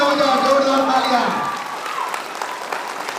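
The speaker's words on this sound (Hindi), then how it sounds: "जोरदार तालियां बजाओ, जोरदार तालियां" Loud audience applause fills a seminar hall at a Safe Shop event in Samastipur, Bihar, a dense wash of clapping that continues steadily throughout while a voice speaks over it at the start.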